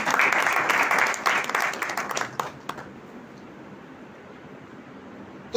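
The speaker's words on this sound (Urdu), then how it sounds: "ہاللیلویہ، زوردار تالیاں بجائیں ان کے لیے" A church congregation breaks into loud applause that lasts about two seconds, then thins out and fades to a quiet room tone.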